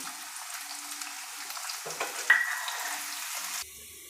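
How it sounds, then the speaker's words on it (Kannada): Finely chopped onion dropped into hot oil with spices in a pan for a cauliflower and green pea kurma, a soft sizzle that swells with a sharp hiss midway, then cuts off abruptly. "ಸಣ್ಣದಾಗಿ ಕಟ್ ಮಾಡಿರೋ ಒಂದು ಈರುಳ್ಳಿನ ಸೇರಿಸ್ಕೊಳ್ತಾ ಇದ್ದೀನಿ"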